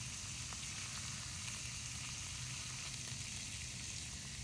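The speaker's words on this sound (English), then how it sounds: "I'm gonna let that sizzle a little bit." Deli meat sizzles and fries in a pan while stealth camping at a disc golf course, a steady, close crackling hiss with no talk.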